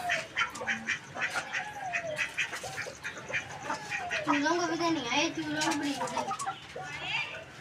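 Ducks quack and chicks peep in a barnyard while being fed chopped spinach, with frequent nasal calls overlapping one another and people talking nearby.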